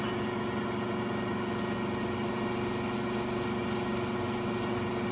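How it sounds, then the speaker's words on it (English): A Monarch kit pen spins on a lathe while it is sanded, giving a steady, loud motor whir under a continuous hiss of abrasive on the turning pen. The sound runs unbroken throughout, with no talking. "do a little sanding on it."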